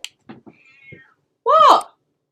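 Domestic cat meowing, one loud close drawn-out meow following a few faint clicks and a short quiet whistle-like tone, with no other sound around it.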